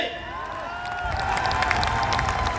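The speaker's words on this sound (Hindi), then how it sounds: "क्या आपकी एक हुंकार के साथ जोरदार तालियां मुझे दिखाई दे सकती है?" Large outdoor crowd of around a hundred thousand people at a grand welcome event cheering and clapping loudly, a steady roar of voices and applause that swells after the first second and holds, with scattered shouts above it.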